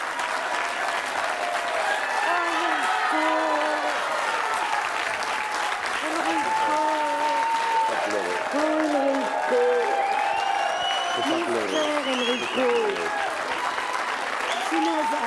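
A television studio audience bursts into sustained applause as a guest, a brother, walks onto the set, loud and dense throughout with a few whoops and a voice speaking over the clapping.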